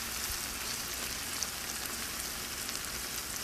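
Garlic sizzles in a pan for French onion soup, a steady, even frying hiss with no voices.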